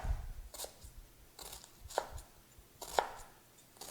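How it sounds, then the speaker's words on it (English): A kitchen knife chopping an onion on a board, cutting parallel to its lines: a few distinct, spaced chops roughly once a second, close and fairly quiet, with no voice. "Now I want to take my knife and I'm going to go kind of parallel to the lines of the onion itself."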